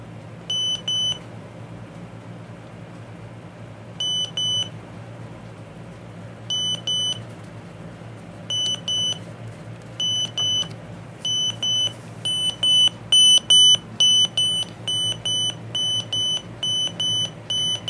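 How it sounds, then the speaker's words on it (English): The alarm of a Sony Dream Machine ICF-C305 clock radio sounds loud, close, high electronic beeps, first in short groups and then in a rapid repeating pattern, over a low background hum. "I'll figure out the alarm and we'll have a listen to it."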